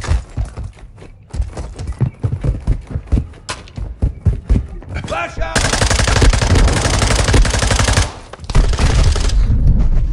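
Rapid automatic gunfire in a Modern Warfare first-person shooter, loud and close: early bursts of separate sharp shots give way to a dense, sustained stream of fire with a brief break before it resumes.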